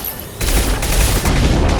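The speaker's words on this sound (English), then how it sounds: "Taking fire." Loud, dense gunfire in the video game Mass Effect Legendary Edition, a continuous barrage of shots and booms that swells after a brief quieter opening and carries on without pause.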